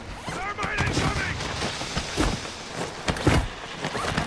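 Gunfire in a video game played at game night, bursts of shots and impacts scattered under people talking over one another.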